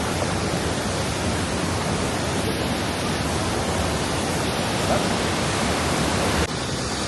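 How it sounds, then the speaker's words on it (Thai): An artificial waterfall at a Chinese valley tourist site near Shanghai pours down in a loud, steady, unbroken rush of water heard up close. "คือเขาเข้าใจทำเป็นแบบน้ำตกลงมา"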